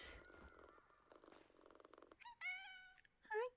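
A cat in the video game PowerWash Simulator 2 purrs softly and continuously, then gives two short, clear meows near the end.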